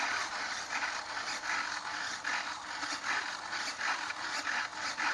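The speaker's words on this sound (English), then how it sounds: "I'm going to start moving all my control surfaces" Servos on a model aircraft drive the rudder, elevator, ailerons and flaps together, giving a steady close whirring, grinding buzz that swells and dips in short pulses without pause.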